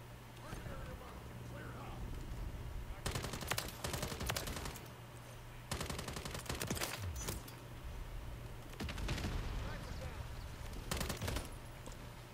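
Video game gunfire in a Call of Duty MW3 multiplayer match: several bursts of rapid automatic shots a few seconds apart, loud and close, with a steady game soundtrack hum beneath.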